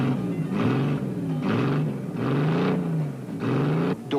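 A banger race car engine with its silencer removed roars loud and close, revving up and easing off in repeated surges with a rough, buzzing exhaust note.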